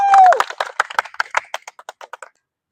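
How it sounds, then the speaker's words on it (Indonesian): A classroom of students clapping for correct answers during a physical education lesson, a burst of sharp claps that thins into scattered, fading single claps, with a brief whistle-like tone at the very start. "Tepuk tangan dulu."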